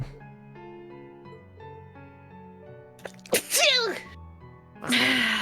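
A sneeze bursts out in a quiet room over a low sustained musical drone, followed by a second sneeze-like burst near the end, both sudden and loud against the soft background.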